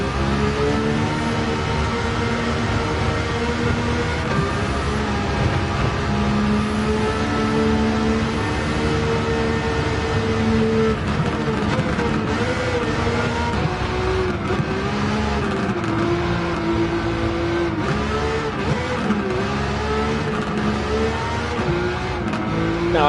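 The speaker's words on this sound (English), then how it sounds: "You can just hear that whistling sound." A Nissan Skyline R34 GT-R V-Spec II Nür race car engine in Gran Turismo 7 drones and revs continuously, with a high turbo whistle rising and falling above the roar.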